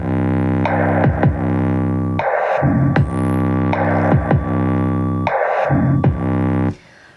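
An electronic beat loops with sustained buzzy synth tones and sharp percussive hits in a steady repeating pattern, loud and up close, no singing, ending abruptly.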